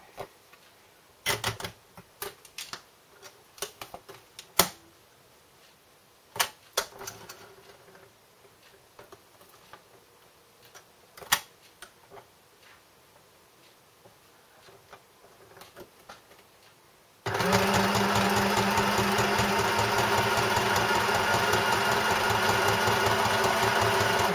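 A sewing machine runs a zigzag stitch after a long stretch of scattered clicks and handling noises, then sets into a loud, steady, continuous whirring hum close by.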